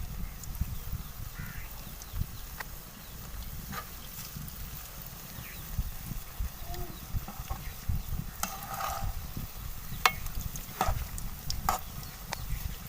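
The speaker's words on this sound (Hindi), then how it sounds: "लो फ्लेम पर ये हमारे कुक हो रहे हैं स्नैक्स।" Potato snacks cook in a pan over a low flame with a soft, steady sizzle, and are turned over with scattered light clicks and scrapes.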